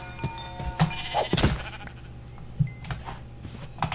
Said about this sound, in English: if there's that sheep nearby, I'll get some sheep too.